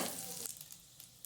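Cumin seeds and half-crushed garlic tempering in hot ghee give a close, steady sizzle with a soft crackle running throughout.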